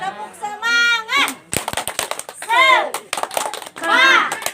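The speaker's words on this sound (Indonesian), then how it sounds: "Kita tepuk semangat dulu ya." A group does the 'tepuk semangat' rhythmic clapping chant at a community family-development session in Cidahu, with short bursts of sharp claps between loud, sing-song voices calling out in unison.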